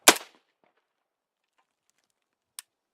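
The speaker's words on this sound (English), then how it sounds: "And that's your trigger reset on an AK" A sharp metallic clang from an AK rifle's action opens, followed after a quiet pause by a single small, crisp trigger reset click.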